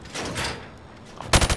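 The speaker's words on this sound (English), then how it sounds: "Shoot target from the hip." Rifle fired from the hip in Call of Duty: Modern Warfare Remastered, during a training-range exercise. A burst of loud, close shots comes near the end, after quieter background noise.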